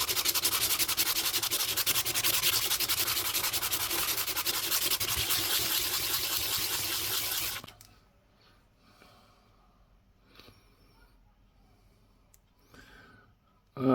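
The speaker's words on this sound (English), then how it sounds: "Just want to give that a quick rub down" A British sixpence coin ring being rubbed down by hand, a close rasping, scratchy rub lasting several seconds before falling to quiet with faint small handling noises.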